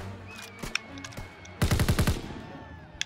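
A Call of Duty WWII machine gun fires a loud close burst of about seven rapid shots in the middle, with scattered single shots and faint battlefield sounds before and after.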